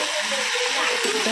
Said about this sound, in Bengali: তো সেই জন্য আলু বসিয়েছি মাছের তেল দিয়ে